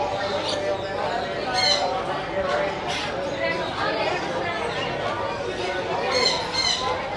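Sulphur-crested cockatoos and other caged parrots at the Royal Darwin Show in Australia squawk and screech in rapid, overlapping bursts, loud and close, with chattering throughout.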